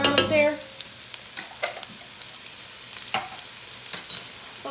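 Garlic and onion frying in a pan for shrimp fried rice: a close, crackling sizzle with utensil clicks and stirring scrapes scattered throughout, moderately loud with no talking.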